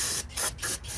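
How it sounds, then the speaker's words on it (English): Brake cleaner sprays from an aerosol can onto a 1994-96 Cadillac Fleetwood engine near the throttle plates during a thermostat job, in three close, loud hissing bursts with short gaps. "A little brake clean on here."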